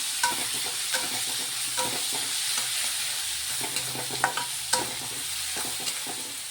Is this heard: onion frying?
yes